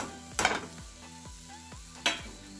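Potatoes, capsicum and amchur are stirred in a pan with a soft sizzle, a spoon scraping in a steady rhythm and two sharp clanks against the pan, close and with no talking.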